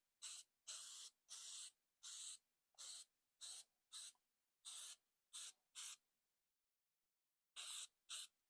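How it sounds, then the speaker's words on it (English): An aerosol can of gasket sealant sprays in about a dozen short, sharp hissing bursts, close and fairly quiet, with a pause before the last two, during work on an old truck. "We'll spray a gasket."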